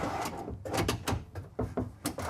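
Pull-out pantry drawers in a 2024 Newmar Dutch Star 4369 motorhome are slid and pushed shut, giving a quiet series of soft knocks and clacks at close range with no talk.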